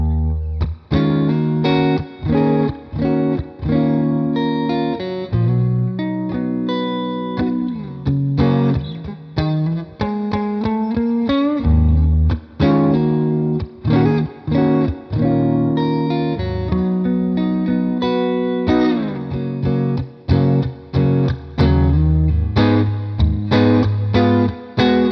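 Electric guitar played through a NUX Amp Academy Stomp modelling a Deluxe Reverb amp, with a warm, slightly driven tone, strummed chords and single notes in a loose rhythm, no voices.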